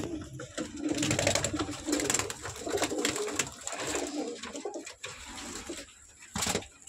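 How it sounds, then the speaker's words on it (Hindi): Red-eyed pigeons at a Punjab pigeon loft coo in soft, overlapping low calls close by, with rustling and a brief splash-like burst near the end. "बाकी कबूतर इसमें बहुत लाल आंखों के कबूतर है।"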